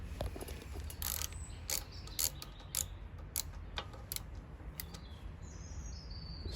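Loosening the brake mechanism on a moped brings a run of sharp metallic ticks and clicks, scattered irregularly and fairly close, over a steady low workshop hum.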